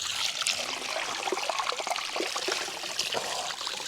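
Water trickles and burbles steadily and close at the source of the Ocreza River in Portugal, a constant liquid babble with small splashy accents and no voices.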